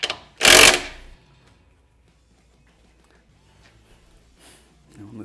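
Bolts on a set of plow lights are tightened with a hand tool, giving one loud, close ratcheting burst lasting about half a second, followed by near silence and a faint shuffle at the end.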